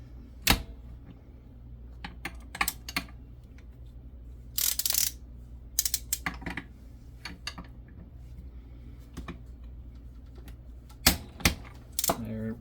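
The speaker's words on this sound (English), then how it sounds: "There, clicked again." A torque wrench clicks while tightening a barrel nut on an AR15 upper, heard as sharp isolated clicks and clacks scattered through a quiet workshop, with occasional low talk.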